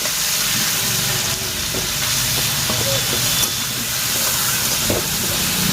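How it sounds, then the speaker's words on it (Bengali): Potatoes fry in oil with a dense, constant hiss and crackle, steady and close for the whole stretch, with no talking. "এগুলো ভাজা হয়ে গেলে খুব সুন্দর রং হবে আলুগুলো"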